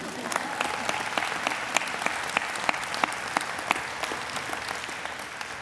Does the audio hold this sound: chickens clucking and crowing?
no